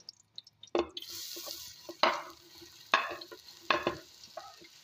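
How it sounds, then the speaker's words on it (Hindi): Chopped onion with ginger-garlic paste fries in a pan for kadhi pakora, heard as a close spoon scraping and stirring in four distinct strokes over a soft sizzle, with quiet taps in between. "इसको अब हम भूनेंगे अच्छी तरह."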